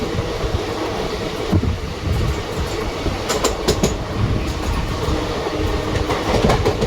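The 12604 Chennai SF Express runs along the rails on the Guntur route, a loud sustained rumble from inside the train with rhythmic clickety-clack wheel beats and occasional sharp metallic knocks.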